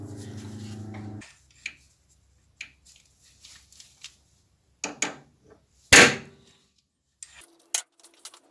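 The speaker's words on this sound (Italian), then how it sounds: "Guardiamo com'è, se la pressione della martellata è sufficiente." Hammer striking a number punch to stamp digits into metal in a DIY machining workshop, a few sharp isolated taps with one louder metallic blow near the end, close up amid quiet handling noises.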